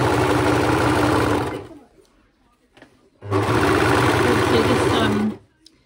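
An overlocker sews through layers of cloth nappy in two loud, close bursts of rapid mechanical whirring, each about two seconds long, with a short pause between them.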